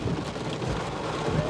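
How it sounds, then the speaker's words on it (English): A nasty thunderstorm with heavy rain pours down steadily, a dense hiss of rainfall with low rumbling underneath and some wind buffeting the microphone, continuous and fairly loud with no talking. "We've had some really nasty storms just come right through here"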